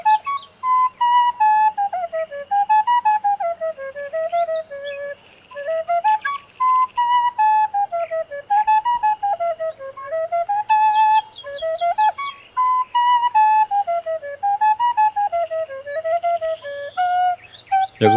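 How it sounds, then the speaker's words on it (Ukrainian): A breathy wooden sopilka flute plays a lilting, repetitive Ukrainian folk melody in short phrased notes, clear and close with no other sounds. "звуки природи в цей час гармонійно доповнюються мелодією сопілок"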